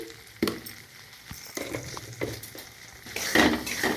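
Spices for a pea curry being stirred in a pan: irregular scrapes and clinks of a utensil against the pan over a low sizzle, growing busier toward the end.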